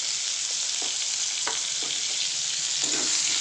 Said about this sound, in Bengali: এইগুলো ভালো করে ভেজে নিই।